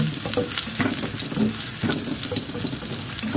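Garlic sizzles loudly in a pan, a continuous dense crackle of frying broken by the scrape and clatter of stirring, with no talk over it.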